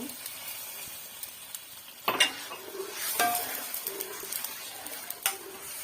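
Sweet rice with ghee, sugar, food colouring and garam masala sizzles softly in a pan while a spoon stirs and scrapes, with a few louder clinks and scrapes over the quiet, steady frying.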